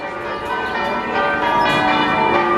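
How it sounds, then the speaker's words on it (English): Church bells in Slovenia peal at 6:45 in the morning, a dense, sustained ringing of overlapping tones that carries from a distance, loud and continuous with no talk over it. "And there goes those 6:45 bells again."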